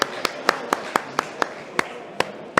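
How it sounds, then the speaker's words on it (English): Hand clapping at a seminar during the GroundsFest machinery show: sharp, evenly spaced claps in a quick steady rhythm, sounding more like a few hands than a full crowd, over a faint murmur of room noise. "and nice round of applause"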